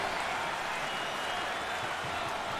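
Stadium crowd in Madden 19 during a 49ers vs Cardinals game, home fans roaring against the offensive line after a false start: a steady, dense wash of cheering and clapping holding at one level throughout.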